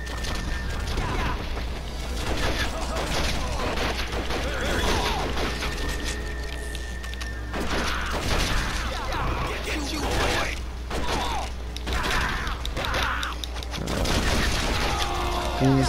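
Gunfire from the video game Red Dead Revolver comes in repeated loud shots and bursts aimed at enemies, mixed with mechanical clanks and impacts over a busy game soundtrack.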